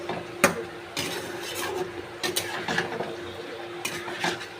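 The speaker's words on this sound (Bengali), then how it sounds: "আবার একটু নেড়ে দেবো।" A utensil scrapes and knocks against a pan while spicy chicken and potato curry is stirred, with sharp intermittent clinks over a low steady background.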